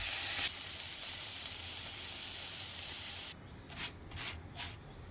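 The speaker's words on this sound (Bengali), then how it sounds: "তারপরে পনির অ্যাড করে একটু নাড়াচাড়া করে" Paneer sizzles and hisses in a hot pan as it is stirred, a loud, steady frying noise that drops away abruptly, followed by a few short scraping stirs.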